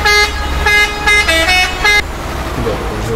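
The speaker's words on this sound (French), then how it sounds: "Comme mon klaxon qu'on entend." A truck horn in Euro Truck Simulator 2 blares in several loud, close tonal blasts, short and then held, over a low engine rumble, before the honking stops and the engine drones on.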